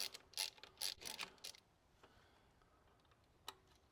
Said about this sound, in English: You take a T30 here, remove the bolts connecting this top coolant pipe.